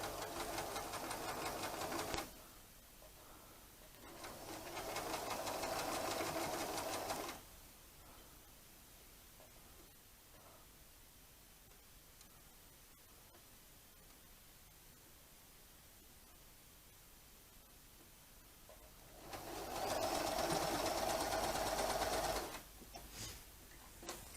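Sewing machine stitching a mini flying geese quilt block, running in two short bursts of steady fast whirring and clatter. A long quiet pause separates the runs, and a third burst comes near the end.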